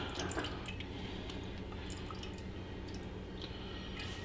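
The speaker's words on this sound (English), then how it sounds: "I'm just going to fill this enough milk to fill the bottom of the pan" Milk pours into a pan for buffalo chicken mac and cheese, a steady soft liquid trickle with faint drips and splashes, heard close and alone for several seconds.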